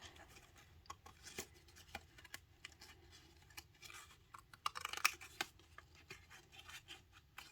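Paper being cut with scissors for a greeting card, giving faint, slow, intermittent snips and rustles at close range in a quiet room, with a brief cluster of sharper cuts near the middle.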